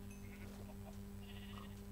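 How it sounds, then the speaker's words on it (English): Minecraft sheep bleating in a short, soft call over a steady droning background of in-game music or ambience, with no talk. "Well, hello there, sheep."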